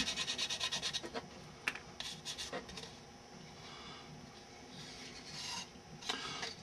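Sandpaper rasps against a curved, angled car A-pillar part, first in a quick run of rhythmic strokes, then in scattered scratchy passes and longer rubs, close and fairly quiet with no talk.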